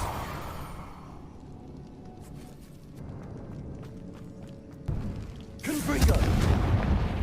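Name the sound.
Confringo explosion spell cast in video game Hogwarts Legacy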